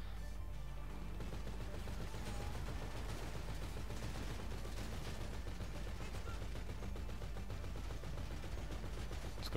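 Dense, continuous gunfire from a GTA Online heist shootout, steady rapid bursts layered over one another with a constant low rumble, loud and close, with no talk heard.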